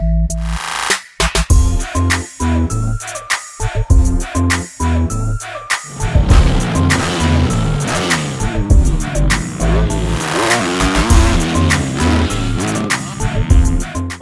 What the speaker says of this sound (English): testing the 2016 Yamaha GYTR YZ250F